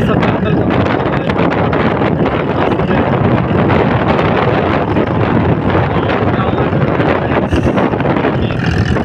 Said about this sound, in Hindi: बहुत काफ़ी तेज हवा चल रहा है